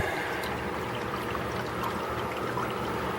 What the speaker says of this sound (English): the water is coming out through there